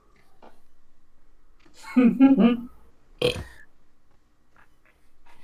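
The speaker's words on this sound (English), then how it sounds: "That was me having a small burp." A short, guttural burp rises out of near silence, followed by a brief breathy exhale; faint voice fragments appear before and after.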